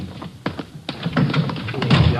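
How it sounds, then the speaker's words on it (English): Door handling in an old radio drama: a series of close taps and thunks, a latch clunk and the door moving, followed by low shuffling and a faint murmur of voices. "Just a minute, I'll get the door here."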